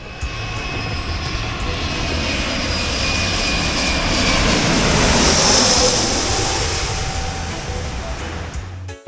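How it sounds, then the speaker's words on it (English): A loud, roaring jet engine blast swells and holds for several seconds, a powerful airliner thundering close by on takeoff at Saint Martin in the Caribbean, with rushing wind noise. "people stand behind big jets when they lift off"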